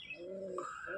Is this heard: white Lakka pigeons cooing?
yes